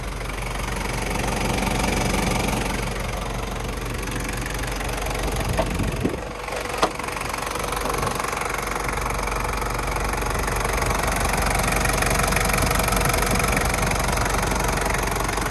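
A 1995 Toyota Hilux Surf SUV engine idles steadily and smoothly with a low, even rumble, heard close up throughout, with a couple of brief clicks partway.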